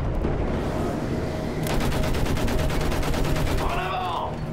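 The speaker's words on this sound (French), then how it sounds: "À la mitrailleuse." Rapid machine-gun fire rattles in a World War I battle in Battlefield 1, a dense burst of close shots in the middle amid constant battlefield rumble, followed by a rising whistle-like tone near the end.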